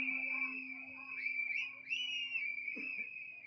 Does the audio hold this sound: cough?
no